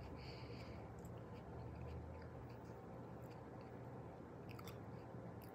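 Someone chews romaine lettuce close to the mic, quiet wet crunching and biting in a steady rhythm over faint background hiss, with no talking.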